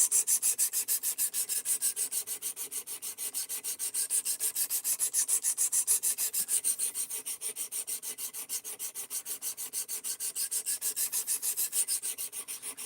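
Steel knife blade stroked back and forth across coarse abrasive sharpening plates, a steady rhythmic rasping scrape repeating many times, close and fairly loud with no voices.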